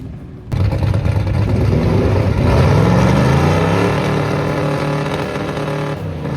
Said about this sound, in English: me with a pathetic burnout that barely squeals the tires